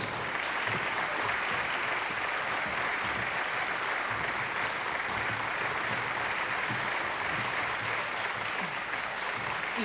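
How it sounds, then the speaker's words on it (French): An audience claps in a steady, dense wash of applause, evenly sustained from start to finish and heard from some distance, with no voices standing out. "C'est ma notoriété qu'ils applaudissent, tu sais, pas la performance"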